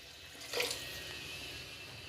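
Water poured into a cooking pot of fried mutton keema and rice for pulao, a soft continuous splashing pour with a brief louder gush near the start, fairly quiet and heard alone.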